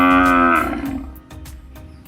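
Cattle at a large Brazilian slaughterhouse let out a single loud, drawn-out moo that fades into quieter pen noise and soft knocks.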